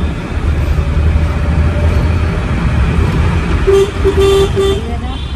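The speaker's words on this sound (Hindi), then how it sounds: "ड्राइवर गाड़ी चला रहे" A car moves through road traffic with a steady engine and road rumble, while a few short horn toots sound near the end and a voice speaks over it.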